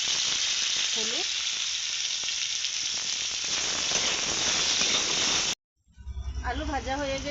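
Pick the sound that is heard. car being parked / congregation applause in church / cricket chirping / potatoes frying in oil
potatoes frying in oil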